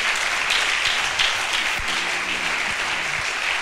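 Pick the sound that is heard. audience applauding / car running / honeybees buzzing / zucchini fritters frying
audience applauding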